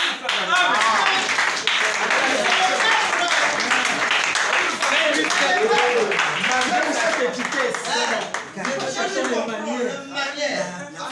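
A church audience clapping in applause, a dense, sustained wash of hands mixed with chatter and some laughter, with voices talking throughout.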